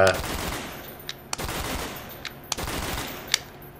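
Gunfire from a PS3 video game played through a rapid-fire controller rattles out in clipped three-round bursts, a steady, evenly spaced series of loud close volleys.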